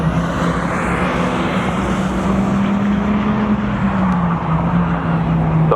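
A drag racing car accelerates down the track at a spectator drag night, a loud, sustained engine roar with a steady droning pitch that rises slightly and then eases off, heard up close for several seconds.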